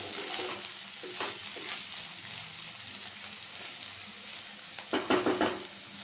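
Vegetables stir-fried in a pan for homemade fried rice, a soft continuous sizzle broken by scraping stirs and a cluster of louder clatters near the end, quiet and close with no speech.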